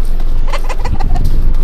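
A chicken clucks in the mobile battle royale game BGMI, a loud rapid run of short clucks over a steady background of game noise, with no talk.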